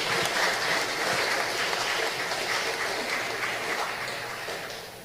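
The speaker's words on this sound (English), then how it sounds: "I ask you to join me in a round of applause for their beautiful music" An audience at a ceremony honouring Belizean patriots applauds the Belize Defence Force Band with a full, steady round of clapping. The hiss-like ovation fades gradually toward the end.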